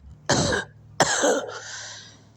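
A voice imitates a man coughing: two harsh, close coughs in quick succession, the second trailing into a raspy throat-clearing rumble.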